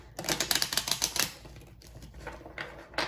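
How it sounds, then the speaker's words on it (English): A tarot deck being shuffled, rapid crisp riffling card clicks in quick bursts during the first second and again near the end, close and fairly loud with no talking. "let's go ahead and give this deck a good shuffle"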